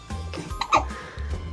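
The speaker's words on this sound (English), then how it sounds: "Oh, the hiccups again." Baby hiccups, a few short soft jerky catches in the breath heard up close, with small breathy sounds between them.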